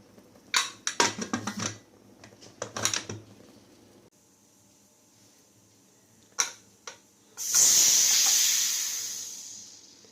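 A loud, steady hiss of steam bursts from a pressure cooker whistle near the end, after scattered clinks and stirring sounds earlier while cooking dalcha.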